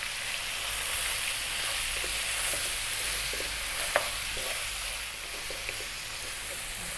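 Chopped onion and fresh curry leaves sizzling in oil in a pan for a lamb curry, a steady close hiss with soft stirring scrapes and one sharp clack.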